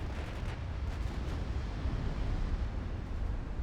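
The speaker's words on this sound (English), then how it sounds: "Actually, mostly 17-inch gunfire." Seventeen-inch naval guns in Ultimate Admiral: Dreadnoughts make a sustained, distant-sounding rumble of heavy gunfire and explosions, steady and fairly quiet, with no talk over it.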